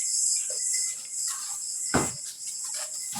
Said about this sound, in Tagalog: Ay, grabe talagang bubuyog na to.